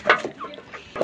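Hens on a poultry farm clucking in a few short, close bursts, loud and irregular within about a second.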